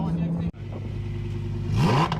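A Lamborghini's engine starts and gives a few short revs after a brief silent gap, rising to a louder rev near the end, heard close by with people talking over it.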